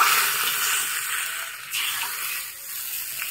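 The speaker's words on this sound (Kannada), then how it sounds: "ಗೊಜ್ಜಿಗೆ ನಾನು ಒಂದು ಒಳ್ಳೆ ಒಗ್ಗರಣೆ ಹಾಕ್ತಾ ಇದ್ದೀನಿ." Coconut oil tempering with mustard seeds, asafoetida, dried chillies and curry leaves sizzles close and steady, a bright crackling hiss that dips briefly midway and then carries on alone.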